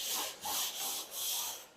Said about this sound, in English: just take your sandpaper once over it